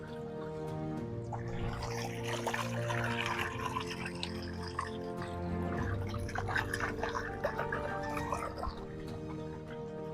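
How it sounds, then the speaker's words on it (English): Water flowing out through the outlet of an earthen catfish pond, a continuous close splashing and dribbling trickle that holds steady with no talk over it. "I come over here to the outlet and I just drop this way, okay, so that it flows to my earthen pond."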